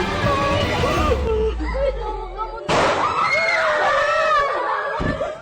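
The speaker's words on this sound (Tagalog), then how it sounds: "Kasunod ng sunod-sunod na putok ng baril ay umulingaw-ngaw na rin ang iyak at sigaw ng mga estudyante" Successive gunshots crack in a school classroom shooting, followed by students crying and screaming in loud, overlapping shrieks, with a burst of sharp pops midway.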